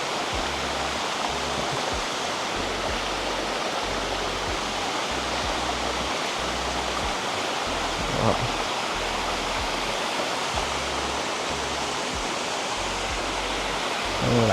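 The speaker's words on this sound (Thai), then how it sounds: "ตรงเนี้ย น้ำตก ไหลมาเลย" Steady, dense rushing water of Thararak waterfall in Phop Phra, Tak, Thailand fills the scene, a continuous broadband roar close by, with no clear breaks.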